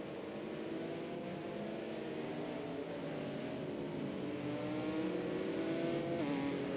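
Race car engines from the 1998 FIA GT Championship field in Project CARS 2, rolling at Laguna Seca on a warm-up lap, droning steadily with layered engine tones that rise gently in pitch, continuous and moderately close.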